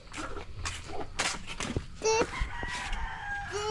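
Chickens and chicks being fed at a hut, with clucks and crowing-like calls rising over a busy yard, a person talking nearby and a dog faintly present.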